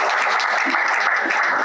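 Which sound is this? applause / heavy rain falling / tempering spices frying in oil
applause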